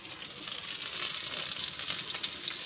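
Green chillies frying in hot oil in a pan with onions, a steady bright sizzle and crackle throughout, close and fairly quiet, with no voices.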